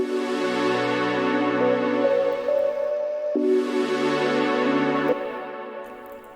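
A spacey trap beat melody built in FL Studio, layered sustained synth tones and ambient pads shifting chords every few seconds, airy and steady without drums.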